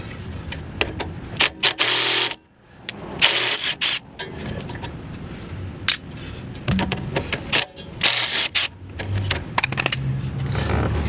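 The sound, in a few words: ratchet removing brake caliper bolts on Toyota Prius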